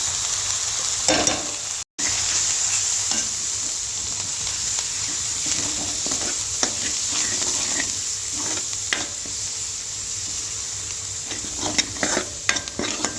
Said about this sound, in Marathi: मसाला इथे मस्तपैकी गोल्डन झालेला आहे आणि आता हा तेल पण सोडत आहे मसाला.